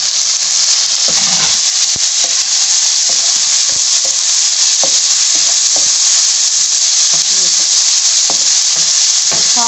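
Onions with tomatoes frying in a pan while preparing fried masala okra, a loud continuous sizzle with intermittent scraping and stirring clatters, close and without speech.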